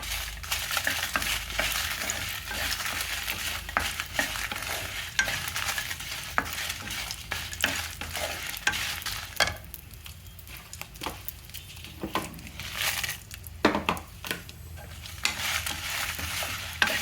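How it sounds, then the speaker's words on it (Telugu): Dried red chillies frying in a little oil sizzle steadily in a pan, with frequent scraping and stirring strokes close by and no talking. "అందుకని కొద్దిగా ఆయిల్ వేసుకొని ఎండుమిరపకాయలు వేయించేసుకుందాం."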